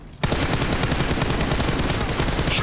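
Sustained automatic gunfire in PUBG Mobile starts abruptly after a brief quiet moment and continues as a loud, dense, rapid stream of shots to the end.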